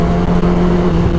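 A Yamaha R6 600cc sport motorcycle being ridden, its engine a loud, steady close-up drone with a sustained tonal hum and no talk.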